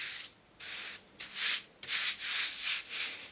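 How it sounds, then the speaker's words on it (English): Fine 320-grit sandpaper rubs against the metal of an E. C. Stearns No. 13 hand plane, a close, hissing back-and-forth scrape in about six strokes with short pauses between them. "just start with a fine grit of sandpaper"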